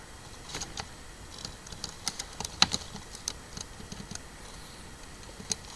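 Typing on a computer keyboard, with irregular clicky key taps and a few harder strokes like the enter key, close by and alone without any voice.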